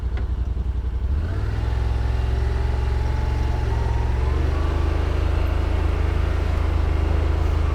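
A Yamaha Wolverine RMAX2 1000 side-by-side with its new 999cc parallel-twin engine driving, a steady droning engine note rising after a brief start and holding loud and continuous from inside the cab, with a few words spoken at the start.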